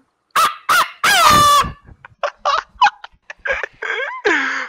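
A person vocally imitating a rooster's crow, loud and close, with a long drawn-out cry followed by a series of choppy, honking vocal bursts and no other sound around it.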